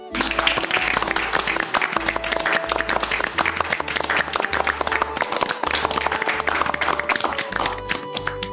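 An audience breaks into steady, sustained applause, with dense clapping throughout and a faint crowd murmur and voices mixed underneath.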